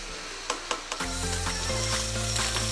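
Beef keema mince fries in ghee with a bright, continuous sizzle, broken at first by a few quick spatula knocks, then joined by a steady low hum, all close and fairly loud.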